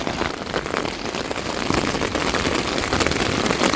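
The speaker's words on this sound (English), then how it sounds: "it's really raining hard" Heavy rain pounds a camping tent during a thunderstorm, making a dense, constant, loud patter with no break across the short stretch.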